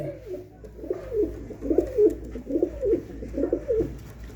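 Pigeons coo repeatedly in a steady, rhythmic series of soft, throaty calls, close and clear with no talking over them.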